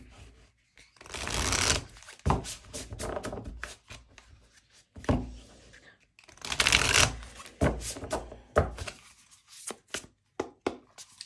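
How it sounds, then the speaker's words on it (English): A Crystal Oracle card deck is shuffled by hand, with bursts of riffling and soft slapping in uneven rhythm, close and fairly quiet, and brief pauses between rounds. "I'm using a while, that's why I'm shuffling a lot."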